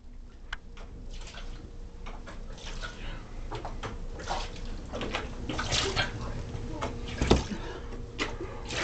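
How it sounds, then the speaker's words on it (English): Water being splashed and poured into a bucket during a laughing water-transfer contest: scattered sloshes, drips and clunks near and fairly quiet, with faint voices in the background. "he is getting more water in his bucket"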